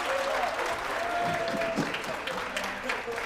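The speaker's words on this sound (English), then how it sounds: "round of applause" A round of applause from the audience at a hackathon awards ceremony, steady clapping filling the room for the full stretch, with some crowd voices and cheers mixed in.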